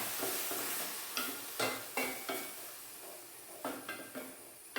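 Cooked, drained barley stirred into a pan for barley pulao, giving a run of soft scraping and spoon-against-pan strokes in irregular bursts over a faint steady sizzle, close up and with no talking.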